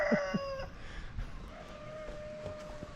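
Free-range chickens kept outdoors give a couple of quick, close clucks at the start, then fainter calls drift over a low outdoor background.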